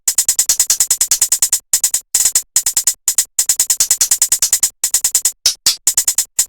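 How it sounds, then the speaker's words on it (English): A crisp, fast trap hi-hat pattern from a drum machine ticks in rapid even runs with brief rolls and short gaps, loud and alone with no other instruments. "here's what this first hi-hat pattern sounds like."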